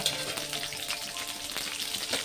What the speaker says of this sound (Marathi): आता मसाला मस्त भाजून घेते मी